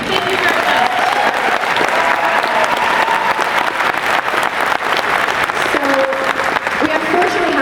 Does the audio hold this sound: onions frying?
no